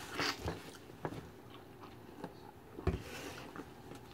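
Someone bites into and chews a Wendy's Dave's half-pound beef burger, with soft close crunchy bites and moist chewing in irregular bursts, the loudest near the start and just before three seconds.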